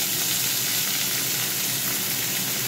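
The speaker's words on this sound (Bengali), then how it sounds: "এবার এর মধ্যে আমি আলু দিয়ে দেবো, আলু আর পেঁয়াজ দিয়ে দেবো।" Potatoes and onion sizzle steadily in a pan alongside fried pointed gourd, a dense, even crackle of hot oil with no talking.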